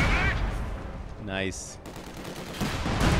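A .50 cal machine gun firing in a video game, dense gunfire layered over ongoing battle noise, with a brief tonal game sound partway through.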